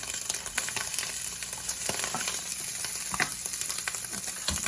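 Stuffing frying in oil and added fat in a pan, a steady dense sizzle throughout with occasional stirring scrapes, close and fairly loud, no voices.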